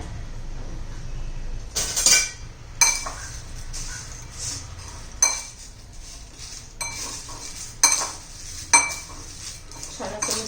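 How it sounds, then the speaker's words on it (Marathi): A spoon stirs papad chutney with white sesame seeds and coriander in a bowl, giving a run of close, sharp clinks and scrapes against the dish, spaced through the mix with quieter rustling between them. "आता सर्व व्यवस्थित मिक्स करून घेऊया"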